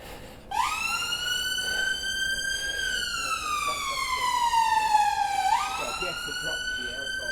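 An ambulance siren in Kentish Town, London, wails, rising and falling in long, slow sweeps, loud and fairly close over street noise.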